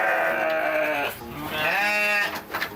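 A sheep bleats at a farm agritourism site, two long wavering bleats in a row, loud and close, followed by a brief softer call, with no talk.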